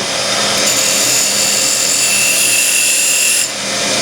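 A tool cuts a thin groove into the back of a timber workpiece on a threading jig with a left-hand spindle, making a loud, continuous abrasive rasping whir that dips briefly near the end.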